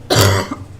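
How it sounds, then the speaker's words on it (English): A single sharp cough bursts out close by, with a short throat-clearing tail right after it, during a December UC commission meeting. "that's not a little sinus cough or anything, is it?"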